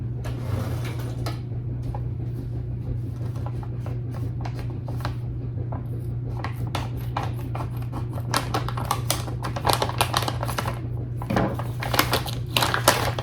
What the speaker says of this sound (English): Let me get my scissors to open that up.